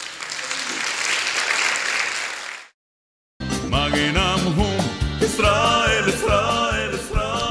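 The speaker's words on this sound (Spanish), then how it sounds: "¿Puedes dar un aplauso al Rey?" Applause from a church congregation for the King at the close of a sermon, a dense wash of clapping for nearly three seconds that stops abruptly, followed by loud music.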